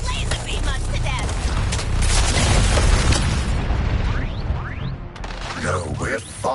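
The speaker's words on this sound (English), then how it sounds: "Cannon's trying to laser beam us to death." Combat in Suicide Squad: Kill the Justice League with booming blasts and whooshing zaps from a laser cannon over a dense rumbling background, followed by sweeping laser-like sounds.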